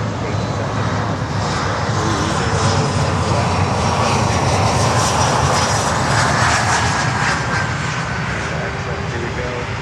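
Air Canada cargo aircraft engines roar at Miami airport, a loud, steady broadband rumble that holds for the whole stretch, with a voice talking over it.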